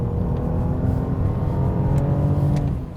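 BMW E39 530i sedan accelerating hard at full throttle, a steady sustained engine note with rising harmonics holding loud and close throughout, tapering slightly at the end.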